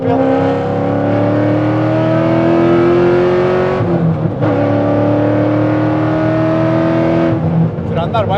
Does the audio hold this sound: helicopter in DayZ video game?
no